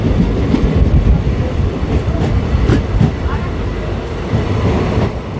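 A train rolls into Ambika Kalna station with a loud, close rumble of wheels and carriages that stays steady throughout, with faint voices of people aboard mixed in.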